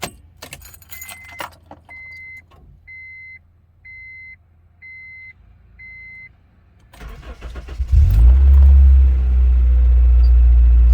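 A 1997–2001 Honda CR-V, fresh from an engine coolant temperature sensor repair after hesitant starts, gets its keys jangled and a short series of five evenly spaced chimes sounds, then the starter cranks and the engine catches into a loud, steady close idle.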